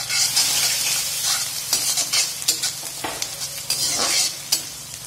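Green chillies and chopped raw mango sizzle in a pan while being stirred, a steady crackling fry broken by scraping spoon strokes.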